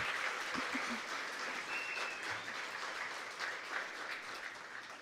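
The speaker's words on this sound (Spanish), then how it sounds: "Fuerte el aplauso para Mi Ambiente." Sustained audience applause at a regional student oratory final in Darién, Panama: a broad, even roar of many hands clapping, continuous throughout, slightly distant and evenly loud, with a few faint thumps early on.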